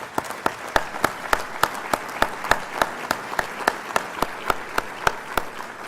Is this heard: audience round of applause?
yes